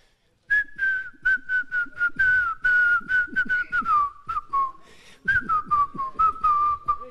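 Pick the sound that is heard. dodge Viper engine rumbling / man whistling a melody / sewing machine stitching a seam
man whistling a melody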